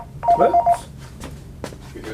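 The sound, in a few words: telephone ringing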